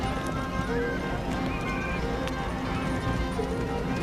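Racehorses gallop in a horse race at a regional Naadam-style festival, with a dense, continuous rumble of hooves under a commentator's excited announcing and crowd noise throughout.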